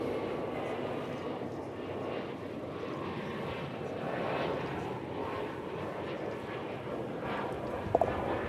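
Airplane taking off at DFW Airport, a steady, fairly loud engine roar holding through the whole stretch with a brief sharp click near the end, heard from a distance at a plane-spotting spot.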